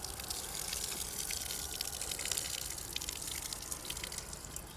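Rice being washed: water sloshes and splashes steadily throughout, a close, continuous rinsing sound with small drips and swirls and no voices.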